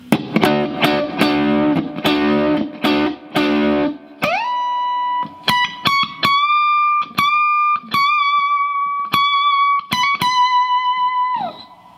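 Electric guitar playing the second solo from a song, opening with rapid percussive dead-stroke chops, then sustained bent lead notes broken by sharp muted clicks.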